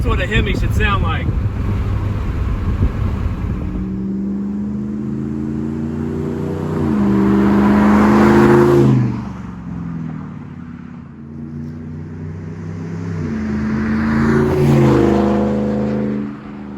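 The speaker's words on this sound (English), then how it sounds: "Now that's what a Hemi should sound like." Deep, loud exhaust rumble comes from a 5th-generation Ram 1500 Hemi V8 fitted with a Borla ATAK exhaust, windows down, as it cruises and pulls through gears, swelling with each acceleration and easing off between them.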